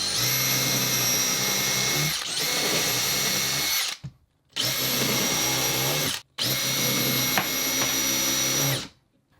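Power drill boring holes while fitting kitchen cabinet parts in a van build: a loud, close, high-pitched whine running in three long bursts separated by short pauses, with no talk.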